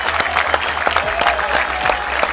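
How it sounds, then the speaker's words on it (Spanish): Crowd in the stands applauds at a Galician men's league rugby match between C.D. Zalaeta ATC Arteixo and CRAT Coruña, a steady spread of clapping with a commentator talking over it. "Recibe los aplausos. Muy bien. De toda la grada."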